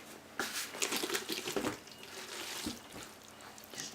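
Water poured from a container into a mixture of wet, squeezed-out toilet paper pulp for making clay, a close, steady splashing and trickling with brief louder gushes, no talking.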